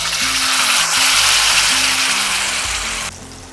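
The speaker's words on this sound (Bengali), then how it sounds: "ফোড়নটাকে একটু ভাজা ভাজা করে নিচ্ছি যতক্ষণ না পর্যন্ত সুন্দর গন্ধ বেরিয়ে আসছে" Bay leaf and tempering spices frying in hot oil for a Bengali katla fish dish, a loud continuous close-up sizzle that drops off sharply near the end as the spice paste goes in.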